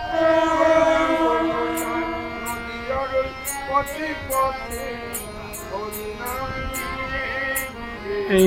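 Local train pulling into Nirol station on the Katwa–Ahmadpur line, a steady rolling rumble with layered horn-like tonal bands and sharp periodic clicks toward the end, loud and close throughout.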